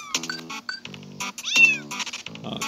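Cartoon kittens meow in the mobile game Super Cat Tales 2, a quick series of short, bright, musical mews and chirps in a playful stream, close and clear with no talking.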